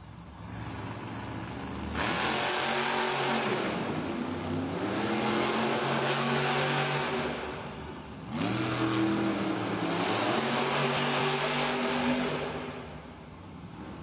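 Monster trucks El Toro Loco and Gravedigger rev loudly in an indoor Monster Jam arena in Des Moines, two long surging engine roars rising and falling in pitch with a brief lull between them.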